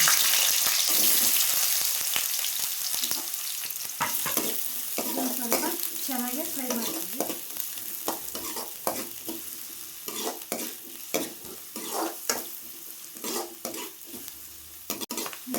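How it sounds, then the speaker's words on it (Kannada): Onion and capsicum frying in hot oil for cabbage Manchurian, a steady loud sizzle throughout with repeated scraping and stirring strokes that grow more rhythmic in the second half; no talking. "ಈಗ ಅದು ಎಣ್ಣೆ ಕಾದಿದೆ ಅದಕ್ಕೆ ಈರುಳ್ಳಿ ಮತ್ತು ಕ್ಯಾಪ್ಸಿಕಮ್ ಹಾಕ್ತೀನಿ"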